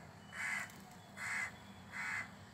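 Three harsh caws from a crow perched near a house railing, evenly spaced and fairly close, ring out over faint steady background noise with no voices.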